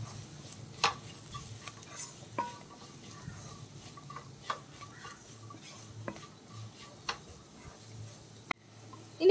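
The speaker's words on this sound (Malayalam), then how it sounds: "മല്ലിപ്പൊടി ചേർത്തിട്ട് നന്നായിട്ടൊന്ന് വഴറ്റണം." A spatula scrapes and stirs coriander powder masala in a pan for pepper chicken, with a soft background sizzle and sharp, intermittent clinks against the metal, close and steady, with no talking.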